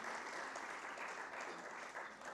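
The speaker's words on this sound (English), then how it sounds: "A round of applause for this legendary gentleman." A crowd at a healthcare excellence awards ceremony applauds with even, continuous clapping, heard faint and distant throughout.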